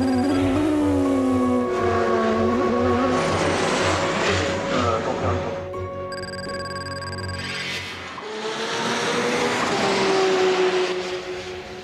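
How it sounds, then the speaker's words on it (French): Audi race cars accelerating off the start at the 24 Hours of Le Mans, engines rising and passing at a distance, with a brief lull before another surge builds loudly. "Every car surges forward looking for an opening"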